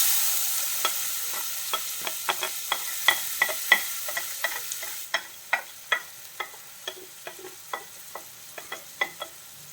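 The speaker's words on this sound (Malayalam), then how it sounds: "സവാള നന്നായിട്ട് വഴറ്റിയെടുക്കണം." Three chopped onions are stirred and sautéed in oil left from frying fish. A soft sizzle runs under a steady run of sharp spatula taps and scrapes against the pan, and the sizzle becomes quieter partway through.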